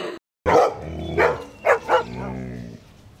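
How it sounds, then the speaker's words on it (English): Several dogs bark in short bursts, a few sharp barks followed by a longer whining yelp, fairly close and loud. "Like they are barking."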